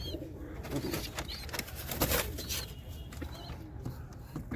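Domestic pigeons cooing in a loft where chicks are being raised and eggs incubated, soft repeated coos blending into a busy, noisy background with some voices.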